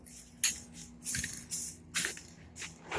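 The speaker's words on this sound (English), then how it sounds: "time to clear coat it. We got the 2 times gloss clear from Ultra Cobra Rust-Oleum" Aerosol can of Rust-Oleum Ultra Cover 2X gloss clear coat sprayed onto a car front lip, in several short hissing bursts about half a second apart, close and fairly loud, with no talking.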